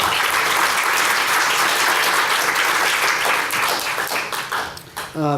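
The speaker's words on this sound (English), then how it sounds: "give a round of applause" Loud, sustained applause from a lecture hall audience honoring donors at a nutrition lecture series, dense clapping that holds steady and then thins toward the end, with some voices mixed in.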